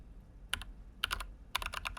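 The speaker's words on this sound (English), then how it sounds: "I'm just mashing my face on the keyboard." Computer keyboard keys mashed in three quick flurries of clattering, dense clicks, close and fairly loud, with short pauses between bursts.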